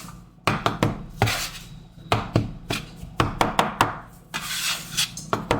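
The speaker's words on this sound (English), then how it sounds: "So I like to take a bench scraper" A metal bench scraper chops and scrapes ravioli pasta dough on a work surface, giving a loose series of sharp near knocks and taps with short scraping rubs between them, with no talking.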